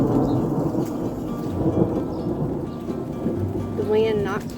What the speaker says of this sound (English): Can't believe how much rain we got.